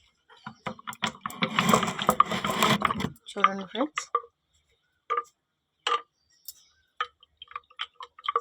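Collagen powder is stirred into a glass of water: a dense rustling swirl for a few seconds, then scattered light spoon taps and clicks, with a voice speaking briefly.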